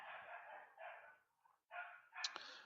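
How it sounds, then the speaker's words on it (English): Faint, distant dogs bark in a few broken bursts with short pauses between them. "Sorry about the dogs barking there."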